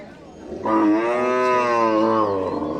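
Friesian cross cow at a village cattle market lowing in one long, loud, close moo with rich harmonics, set against a faint crowd murmur.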